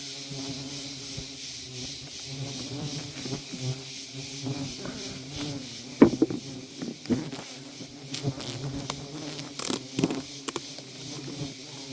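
Tubuna bees buzz steadily throughout a hive transfer, with scattered rubbing and tapping handling sounds and a few sharp clicks over the continuous hum.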